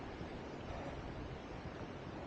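Steady, dense rushing water roars continuously with no breaks from a nearby waterfall at the Seven Falls of Lake Sebu, South Cotabato.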